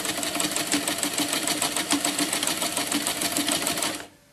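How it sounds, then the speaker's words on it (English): A sewing machine runs a fast, steady burst of stitches through hammock fabric at a corner, loud and close, humming continuously for about four seconds before stopping abruptly. "I'll run me a few stitches through here, then I'll back stitch it"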